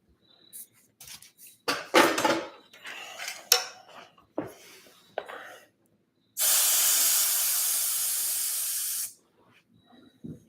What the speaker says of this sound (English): Okay, so we sprayed the low spots, and we're going to hope for the best here.